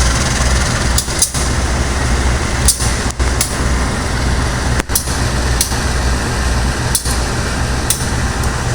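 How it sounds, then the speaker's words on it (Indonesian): The Progo passenger train rumbles at Lempuyangan station, a loud, continuous low roar close by. Sharp clacks and knocks break through at irregular intervals, with no voices. "Nah, itu adalah kereta api Progo yang semalam saya naiki dari stasiun Pasar Senen"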